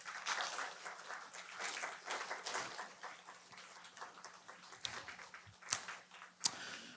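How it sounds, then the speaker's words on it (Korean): Church congregation applauding at a year-end worship service, a quiet, steady patter of clapping from a distance, with a few sharper nearby claps toward the end. "우리 박수로서 한번 환영할까요?"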